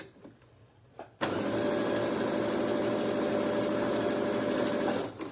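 A sewing machine runs a steady stitching burst of about four seconds on a strong seam for high-waisted shorts, loud and continuous after a brief quiet start, then stops.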